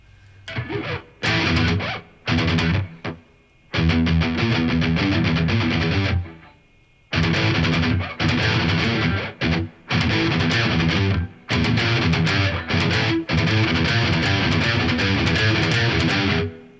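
Heavy distorted electric guitar riffs in fast, choppy bursts with short pauses between phrases, loud and aggressive, no voices.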